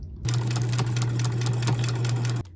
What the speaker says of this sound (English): it's time to take it to the sewing machine and sew around the outside with a 1/4 inch seam allowance